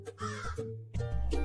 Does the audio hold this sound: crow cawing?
yes